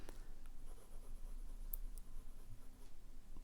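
A Pilot Kakuno fountain pen writes on paper, giving a faint, steady scratching of nib on page throughout, with a few soft clicks and no talking.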